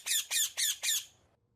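A pet parrot lets out four harsh, loud squawks in a quick even rhythm close by, then falls silent.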